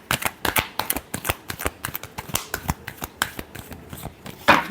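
Tarot cards being shuffled by hand in a rapid run of crisp, close riffling bursts, roughly a dozen distinct flicks in quick succession ending with a sharper final snap, no voices.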